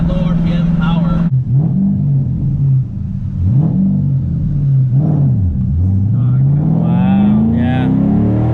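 Engine of a modified 2010 Ford Mustang GT revving repeatedly during a ride, rising and falling in pitch through several bursts and then climbing steadily, loud and close, with people talking over it.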